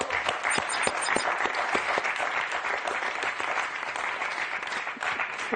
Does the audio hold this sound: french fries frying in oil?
no